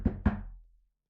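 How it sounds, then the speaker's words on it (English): Two quick, hollow knocks on a door, close and clear, followed by a short fading resonance and then silence. "A knocking at the door cut through the bleating."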